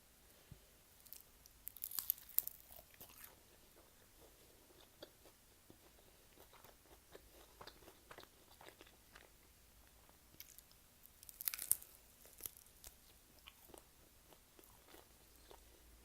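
Close, quiet crunching and chewing of spicy Korean fried chicken, with two crisp bursts of biting early on and later, then softer mastication in between.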